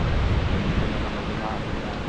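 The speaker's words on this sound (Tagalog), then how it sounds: "Hangin eh, no?" Strong wind buffets the microphone on the shore of Lake Ontario, a loud continuous roar with waves churning beneath it and no clear break throughout.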